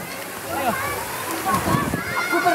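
Children splash and slosh through the water of a busy outdoor swimming pool with waves, a soft, continuous wash close by, while a voice and other chatter go on over it.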